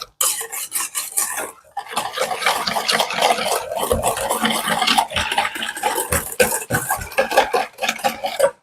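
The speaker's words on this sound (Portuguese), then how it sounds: "esse leite quentinho a gente vai misturar aqui com os ovos branqueados e vamos misturar isso tudo" Whisk or spoon working hot milk into whitened, blanched eggs in a bowl, producing continuous scraping and clinking with a brisk, uneven rhythm, close and moderately loud, with a short pause early on.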